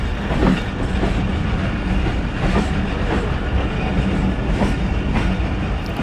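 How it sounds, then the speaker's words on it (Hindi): The Thal Express passenger train runs on the main line between Rawalpindi and Attock, a loud continuous rumble with a steady rhythmic clickety-clack of wheels over rail joints. "थाला एक्सप्रेस ने रावलपिंडी से अटक तक मेन लाइन 1 पर सफ़र किया था"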